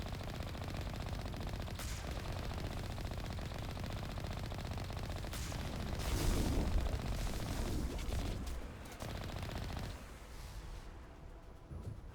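Rapid, sustained gunfire from the Mass Effect sci-fi video game rattles in dense automatic bursts, fairly subdued in level, with a brief surge of heavier shots midway before it eases off.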